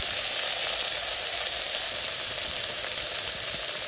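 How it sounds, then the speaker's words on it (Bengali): Salt, turmeric and onion paste fry in a hot pan in a village kitchen, giving a steady, close, moderately loud sizzle and hiss that runs unbroken throughout with no talking. "সব মশলা কষিয়ে তারপরে মাংস দিলাম।"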